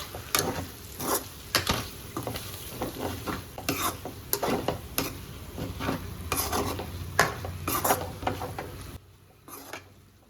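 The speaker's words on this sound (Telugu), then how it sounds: "కలుపుకుంటూ ఉండండి, లేకపోతే మొత్తం మాడిపోద్ది." Boti (goat tripe) masala fry stirred in a pan, a spoon scraping and clattering against the metal in steady busy strokes over a soft sizzle, close and fairly loud before stopping abruptly near the end.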